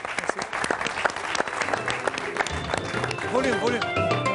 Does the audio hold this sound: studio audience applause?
yes